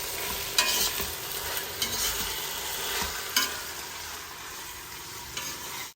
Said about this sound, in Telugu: అల్లం వెల్లుల్లిపాయ పేస్ట్ పచ్చివాసన పోయే వరకు వేగనిద్దాం